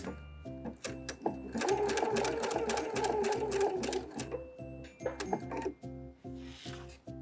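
A domestic sewing machine runs a standard zigzag stitch around torn delicate lace, its needle thumping in a fast, even mechanical rhythm that surges in a dense burst, then slows into spaced, separate strokes near the end.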